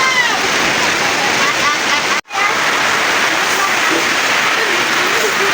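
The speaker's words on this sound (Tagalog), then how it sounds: "Lakas ng ulan." Heavy rain pouring onto a house roof during a storm, a dense steady roar of water that holds loud and constant, dropping out for a moment halfway through.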